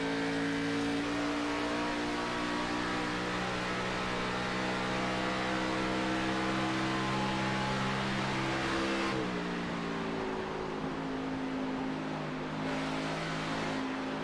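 Race cars roar continuously at Pocono Raceway, several engines droning together at steady high revs with a shift in pitch midway as cars pass and one overdrives a turn, loud and sustained throughout.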